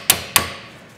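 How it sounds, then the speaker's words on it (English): A hammer strikes a socket fitted over a seized, swollen wheel nut on a 2019 Ford Tourneo/Transit Custom van, two sharp metallic bangs a fraction of a second apart, close and loud, each ringing briefly before fading. "the best thing to do here is just bang it, the hammer,"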